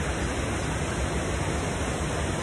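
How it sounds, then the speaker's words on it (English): Abrams Falls in the Great Smoky Mountains, a 20-foot waterfall with a heavy volume of water, gives off a steady, loud, unbroken roar of rushing water that fills the whole moment with no voices. "Only 20 feet in length or in height, but the most voluminous waterfall of the Smokies."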